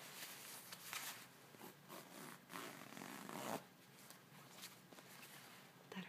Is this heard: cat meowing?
no